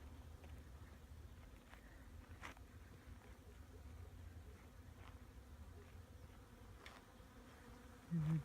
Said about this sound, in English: And the bees are loving the acacias right now.